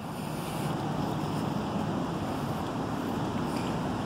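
A swollen river flowing high and fast, a steady loud rushing wash with wind buffeting the microphone, and no voices.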